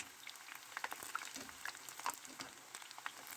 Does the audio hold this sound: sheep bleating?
no